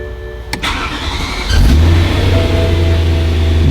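A rebuilt, very high-mileage BMW E92 M3 cranks with a couple of sharp starter clicks, then catches and fires up at about 1.5 seconds, settling into a loud, steady idle close by.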